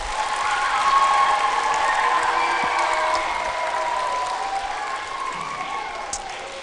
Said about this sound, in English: Can we please give them a big round of applause for all their work?